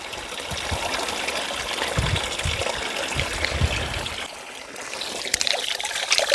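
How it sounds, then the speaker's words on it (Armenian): Cold spring water trickles and gurgles continuously at close range after rain, a steady watery babble with small splashes and no voices. "աղբյուրը"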